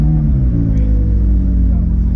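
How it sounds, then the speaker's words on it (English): A McLaren sports car's engine runs with a loud, deep, steady rumble from close by, an unbroken low drone through the whole moment. "foot on a brake, start the car."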